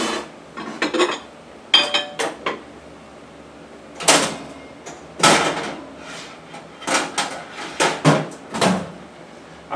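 Oven door opening and a baking dish of chicken with cream and mushrooms pulled out, heard as a series of sharp clanks, knocks and rattles of metal and dishes at close range, with no talking.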